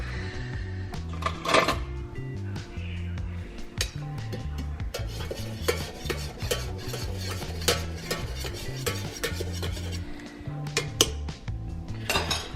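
A spoon stirs honey into tea in a kitchen, clinking and scraping against the cup in a steady run of close, bright strokes, with light dish and utensil clatter around it and no talking.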